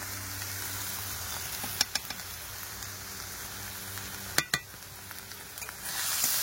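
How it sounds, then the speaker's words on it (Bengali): Spices with salt, turmeric and chili powder fry quietly in a pan, a soft steady sizzle broken by a few sharp clicks of a spatula against the pan. "এবারে মশলাটাকে কষাই করব।"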